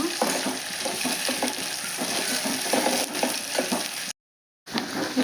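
Onion pieces frying in a pan for mushroom curry, a steady close sizzle with regular scraping stirs throughout and a brief dropout near the end.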